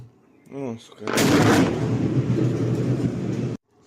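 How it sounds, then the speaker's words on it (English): A distant explosion in Donetsk, a deep, heavy boom that swells and rumbles for a few seconds before cutting off abruptly, preceded by a brief voice. "So that was the explosion way the fuck over there."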